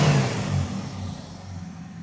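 The engine of a Dodge Charger converted into a crew cab, revved once in a yard, with a short loud rumbling burst that quickly settles into a fading idle.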